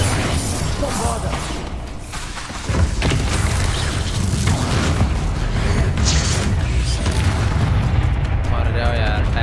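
Spell explosions from Bombarda and other combat spells in Hogwarts Legacy: loud, dense booms and crashes fill the stretch, with a sharper blast near the three-second mark, all under busy game effects.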